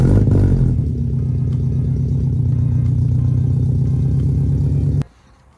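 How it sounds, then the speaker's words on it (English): A Scion FR-S with a newly installed throttle body spacer starts with a brief crank, then settles into a steady, loud, close engine idle with a low rumble for about five seconds before cutting off abruptly. "So now we're gonna start the car and see how it sounds."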